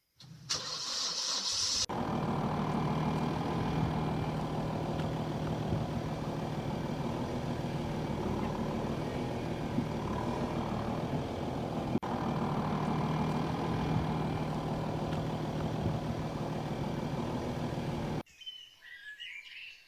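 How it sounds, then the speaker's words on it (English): A lorry engine starts and then runs at a steady, moderately loud drone for about sixteen seconds before cutting off abruptly, with birds chirping faintly in the background. "The group then all squeezed into the lorry and they started to drive off."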